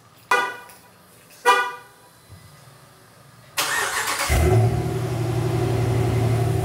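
Car engine cold start after an oil change: two short horn-like chirps, then the starter cranks and the engine catches into a loud, steady idle, close by with no talking.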